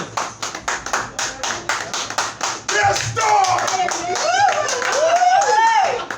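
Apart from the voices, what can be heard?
audience applause after poetry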